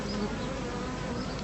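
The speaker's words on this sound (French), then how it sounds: "Henri Cibrario attire les abeilles dans un bac humide" Bees drawn to a damp tray make a dense, steady buzzing that hums close and continuously, with no voices over it.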